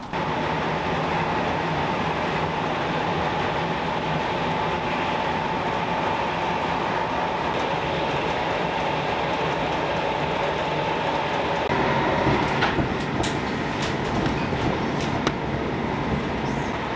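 Steady rumble and rolling rail noise from inside a Swedish X2000 high-speed train bound for Stockholm, continuous throughout with a brief shift in tone near the end and no talking.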